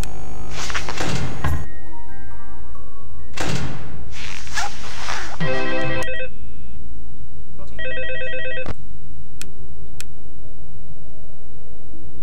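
Telephone ringing in Ultimate Custom Night, the phone guy's call: two loud bursts of trilling rings with heavy thuds and game noises before them, no talk.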